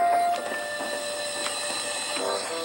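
A cartoon steam locomotive puffs away with a soft rhythmic chuffing and hiss, beginning with a brief whistle-like tone and continuing alone without talk.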